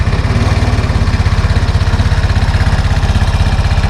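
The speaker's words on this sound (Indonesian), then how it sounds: "Iya, mesin nyalanya kayak gini." A Vespa Matic LX125 scooter engine idles steadily up close, with a fast, even low-pitched putter and a loud constant mechanical hum, no voices.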